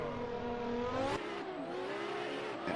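Drift cars, a D-Max S15 and a Toyota Celica, launching off the line at a VDC drift championship round in Assetto Corsa, engines revving hard and rising in pitch with a sharp gear change partway through.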